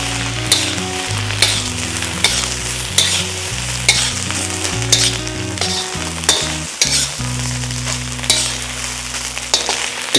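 Shrimp fried rice with soy sauce sizzles steadily in a hot pan while a utensil stirs and scrapes through it, close and continuous with rhythmic clanks.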